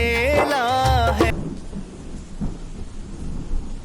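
Rain and thunder from a storm over farm fields rumble low and steady after a sung voice fades out, with soft rolling noise continuing to the end.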